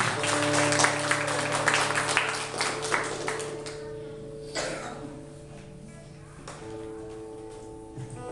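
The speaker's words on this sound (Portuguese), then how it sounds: "Essa palavra é digna de aplauso mesmo." A Catholic charismatic youth congregation claps after a Bible reading, with brisk applause over sustained organ-like tones that thins out and fades, followed by occasional isolated claps.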